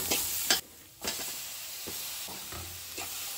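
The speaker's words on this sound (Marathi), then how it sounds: "आता आमी हितून घालया टमाट" Tomatoes go into a sizzling Goan-style prawn biryani masala, with a constant close frying hiss and scraping spoon strokes stirring the pan at an uneven rhythm.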